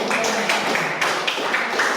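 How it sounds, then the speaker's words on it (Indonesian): A small group claps steadily at a classroom workshop, a light, near patter of hands lasting the whole moment. "Kita berikan tepuk tangan."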